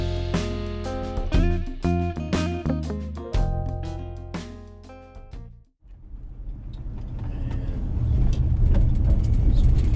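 A Dodge 318 TBI V8 fitted with a K&N X-Stream air filter rumbles low and steady while driving, the deep engine drone swelling gradually louder as the truck pulls away, with no talk.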